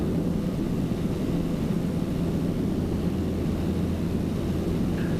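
Piper PA28 Cherokee light aircraft climbing through a circuit turn near Oxford, heard from inside the cabin as a steady, loud engine and propeller drone with broadband wind roar and no talk.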